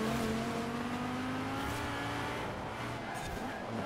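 A Lamborghini Huracan races in Forza Horizon 4, its engine note holding a steady high drone with faint tire noise, loud and continuous across the short stretch.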